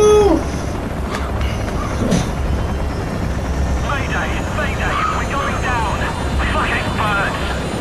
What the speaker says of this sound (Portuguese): Derrubado o helicóptero